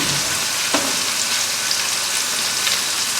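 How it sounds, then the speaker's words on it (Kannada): Tomatoes fry in a pan for puri oggarane, giving a steady, close, hissing sizzle throughout with one faint clink. "ಟೊಮೆಟೊ ಎಲ್ಲ ಚೆನ್ನಾಗಿ ಫ್ರೈ ಆಗಬೇಕು"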